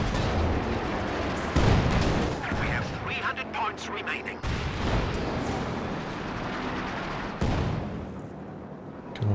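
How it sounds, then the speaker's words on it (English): Anti-tank gun shots in the World War II strategy video game Company of Heroes 2, several heavy booming cannon blasts with echoing tails amid battlefield noise, a commentator's voice talking over them. "AT gun shots there"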